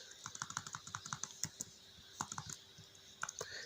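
Code typed on a computer keyboard in quick bursts of crisp, close key clicks, a short flurry, a pause, then a few more taps, quiet and with no talking.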